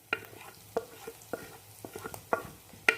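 Spices such as cumin, red chilli and coriander powder fry and are stirred in a pan for a rohu fish and cauliflower curry, a soft sizzle broken by spaced spoon scrapes and knocks, quiet and close.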